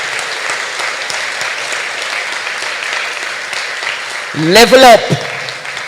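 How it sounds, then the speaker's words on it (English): Audience applause at a torch lighting ceremony, a continuous wash of clapping heard under someone speaking loudly over it. "Clap the excellence of Glenmuir."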